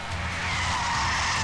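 A car loses control on a curve during a police chase, its tires shrieking in one long, loud, sustained skid over a steady engine roar.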